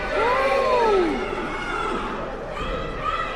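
A wrestling crowd at a WXW C4 Wrestling event cheers in a steady distant roar, with a commentator talking over it.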